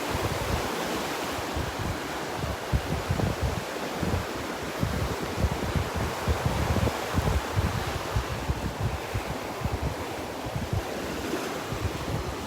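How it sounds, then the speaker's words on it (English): Steady southwest wind blowing across Delnor-Wiggins beach, roaring constantly into the microphone with gusty buffeting and surf washing underneath throughout. "You can see the flags are blowing pretty steady here, pretty constant. The wind coming out of the southwest."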